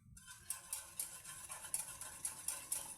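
Beaten eggs being stirred into bitter gourd in a pan with oil: quiet, regular scraping and clinking strokes of a utensil, several per second, close and soft, with no talk.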